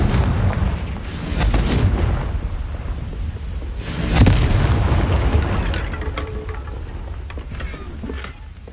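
Confringo spell in Hogwarts Legacy gameplay: two loud, booming explosive blasts, one near the start and one midway, each followed by a rolling rumble that slowly fades.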